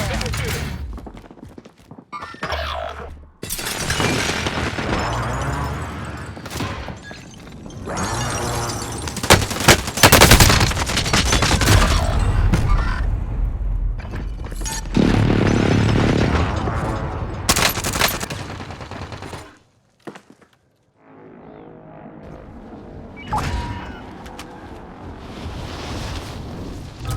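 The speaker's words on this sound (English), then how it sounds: "Friendly precision airstrike inbound." Precision airstrike explosions in the shooter game Warzone, Rebirth Resurgence quads mode: a loud, sustained barrage of blasts and gunfire-like bursts with heavy booms, a brief lull, then more impacts and rumbling over roughly half a minute.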